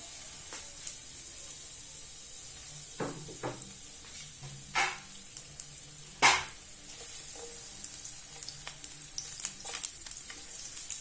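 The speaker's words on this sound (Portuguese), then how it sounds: "Vou deixar fritar um pouquinho o alho." Garlic frying in Portuguese olive oil in a frying pan for fish soup makes a faint, steady background sizzle, broken by a few sharp utensil clicks and taps at irregular intervals.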